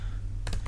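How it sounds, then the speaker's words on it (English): Fingers typing on a computer keyboard to start a desktop session on Linux, a short cluster of three quick key taps over a steady low hum. "typing"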